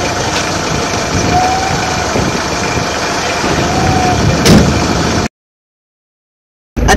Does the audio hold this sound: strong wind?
no